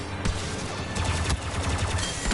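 Rapid bursts of gunfire in a video game, a dense fusillade of repeated shots rattling close and loud over a busy game soundscape, with no voice over them.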